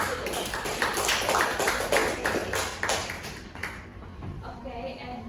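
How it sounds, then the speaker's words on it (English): Students applauding a group in a high school classroom, a few seconds of close, scattered hand claps that fade out toward the end. "Please give applause to group"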